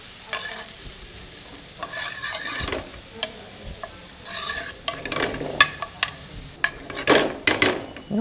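Chopped leeks and onions stir-fried with browned garlic for penne arrabbiata, sizzling in a pan while a spatula clatters and scrapes in irregular bursts that grow busier toward the end; no voices.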